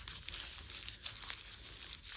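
Close, crinkly tearing and crumpling of a plastic bag as it is cut into strips to make yarn, a soft continuous rustle with no talk.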